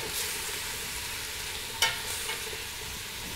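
Beef stew ingredients, carrots with fresh thyme and parsley, sear in a pot with a low steady sizzle, broken by one sharp clink of a utensil midway, close and without voices.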